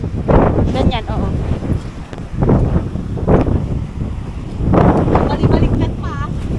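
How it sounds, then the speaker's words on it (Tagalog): Strong wind buffets the microphone at a marina in loud, gusting roars that rise and fall, with people talking over it. "Lakas ng hangin guys."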